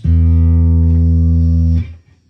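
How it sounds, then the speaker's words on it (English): A loud, sustained electric guitar chord rings through a 1960s Fender Tremolux tube amplifier, holding steady for about two seconds before being abruptly cut off. "sorry for the guitar noise there."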